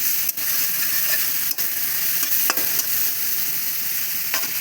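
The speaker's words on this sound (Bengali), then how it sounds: "মশলাটা পুরো কষানো হয়ে গেছে" Spice masala with green chillies sautéing in a pan for a cabbage fritter curry, a steady close sizzle with scraping stirs marked by a few sharp utensil clicks.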